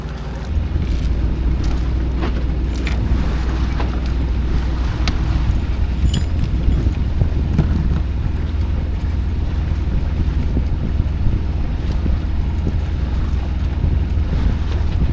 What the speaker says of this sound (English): right now I'm motoring from Mana Island to Waya Island, just up there